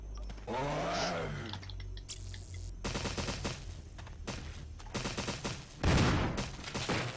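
Gunfire in Resident Evil HD Remaster, loud bursts of repeated shots through the middle of the stretch and a heavy blast near the end, after a groaning creature sound at the start.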